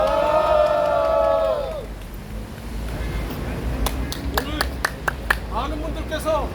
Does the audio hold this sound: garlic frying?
no